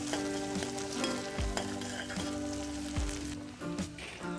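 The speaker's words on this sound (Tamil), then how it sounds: "ஃப்ரை பண்ணதுக்கப்புறம் காரத்துக்கு தேவையான பச்சை மிளகா, நான் ஒரு 3 பச்சை மிளகா போட்டுருக்கிறேன். ஸோ அதையும் சேர்த்து நல்லா ஃப்ரை பண்ணுங்கள்." Small onions and green chillies frying in oil in a pan, a steady dense sizzle with occasional stirring scrapes and clatters, close and continuous throughout, with no one speaking over it.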